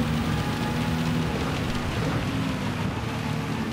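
Rain hisses steadily in a Gran Turismo 7 race at Spa, a dense, even wash of water noise with a low engine drone underneath and no speech.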